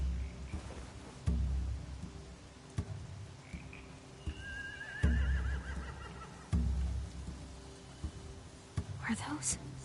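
A horse whinnies faintly with a wavering, rising-and-falling call amid ambience from the video game The Walking Dead: The Final Season, soft thumps and a low murmur of whispered talk.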